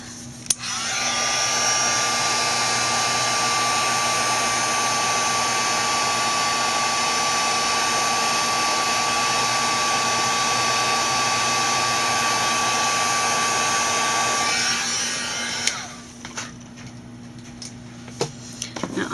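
A hair dryer blows air over a craft card, switching on with a click and running at a steady, loud whir for about fourteen seconds before cutting off, followed by faint handling taps.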